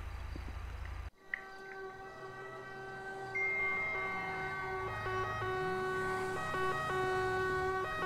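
A synthetic Italian police emergency siren from the video game GTA V (FiveM roleplay) wails up and down over a steady electronic hum, growing louder after a sharp cut at the start.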